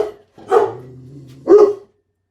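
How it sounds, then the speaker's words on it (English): Two dogs barking at someone arriving at the door indoors, two loud close bark bursts about a second apart. "we do have somebody coming to the door, I believe. That's why the doggies are barking."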